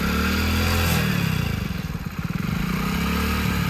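A motorcycle ridden slowly through figure-eight practice, its mid-pitched engine droning close and loud, dipping briefly as the throttle eases mid-turn before picking back up, with no speech.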